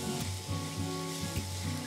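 Spice tempering sizzling in hot oil in a pan, a steady, continuous crackle and hiss heard up close with no talking.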